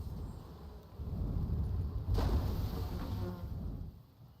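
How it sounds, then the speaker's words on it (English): Bees buzzing in the video game Enshrouded, a dense droning hum swelling and fading over a steady low rumble of game ambience. "That was bees somehow."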